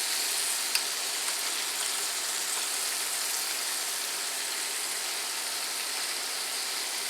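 Chicken frying in a pan, a steady soft sizzle and hiss holding evenly throughout with no talking.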